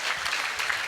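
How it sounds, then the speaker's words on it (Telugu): An audience at an award ceremony claps steadily, a dense burst of many hands applauding close and loud throughout the short moment. "మరొకసారి గట్టిగా చప్పట్లు"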